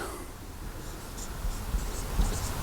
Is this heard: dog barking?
no